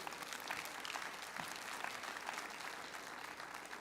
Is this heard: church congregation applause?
yes